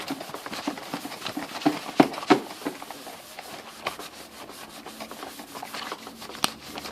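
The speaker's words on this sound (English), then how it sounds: "you have a clean, wet microfiber cloth that you're just gonna wipe off the detergent" A wet microfiber cloth wipes detergent off window blinds with repeated soft rubbing and scraping strokes, sometimes punctuated by light clacks of the slats, close and fairly quiet.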